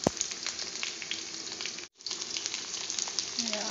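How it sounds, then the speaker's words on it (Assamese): Coriander seeds crackle and sizzle in hot oil in a home kitchen, a dense, close frying hiss that cuts out for a split second midway and then resumes just as loud. "এফালে তেল গৰম যিহেতু হ'লে ধনিয়া দি দিলোঁ মানে ধনিয়াৰ গুটি"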